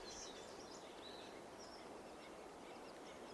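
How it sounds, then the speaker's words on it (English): Faint birdsong in Cleveland National Forest in the early morning, with scattered high chirps and calls drifting over a steady, quiet background hiss at a campsite. "You can hear the birds."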